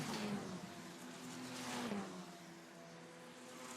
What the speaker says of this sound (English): The number 57 car for RPM going along very, very quickly in this one.